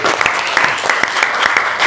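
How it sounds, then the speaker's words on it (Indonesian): Classroom applause from students, a short burst of many hands clapping close by and fairly loud, with a few sharper individual claps standing out. "beri tepuk tangan tuh Georgi."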